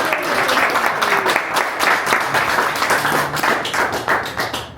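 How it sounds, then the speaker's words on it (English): An audience claps for a few seconds at a talk about a home-theatre soundbar, a dense, steady round of applause in a room. "It's okay to clap. Get to it."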